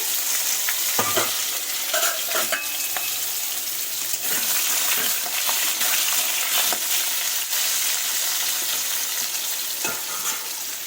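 Boiled potatoes fry in oil in a pan while being stirred: a steady, close sizzle broken by repeated scraping strokes of the spatula, with no voices.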